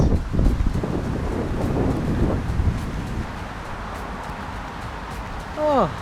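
Steady wind blows at a Welsh seaside on a summer day, a broad rushing roar buffeting the microphone throughout, loudest at the start, with a brief whistling tone near the end.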